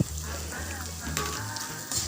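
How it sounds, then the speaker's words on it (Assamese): Potato pieces frying in a pan with cumin, chilli paste, turmeric and salt, a steady close sizzle with a low hum underneath and brief clatters of stirring. "আলুখিনি এতিয়া প্ৰথমতে অলপ ভাজি ল'ম তাতে মছলাখিনি দিলোঁ জিৰা আৰু জলকীয়া পেষ্ট হালধি নিমখ একেলগে দি এইখিনি ভালদৰে ভাজিব লাগিব"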